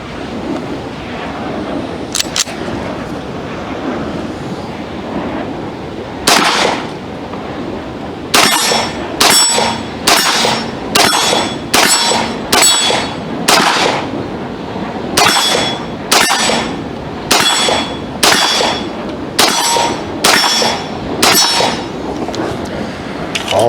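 A 9mm pistol firing at steel targets outdoors: a long string of sharp shots, each followed by a bright metallic clang, in quick rhythmic bursts with short pauses, loud and close amid light wind noise.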